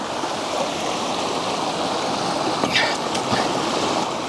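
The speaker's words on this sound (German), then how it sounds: "wie herrlich hier das Wasser fließt" Water flows steadily at Brunnsee, a continuous rushing wash with a few faint splashes and clicks near the end, no voices.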